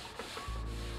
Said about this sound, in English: just a nice little quick coat of oil.